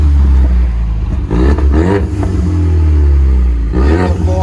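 A 2016 Ford Mustang EcoBoost turbo with dual straight-pipe exhaust and X-pipe revs loudly up close, a deep droning rumble rising and falling through a couple of throttle blips.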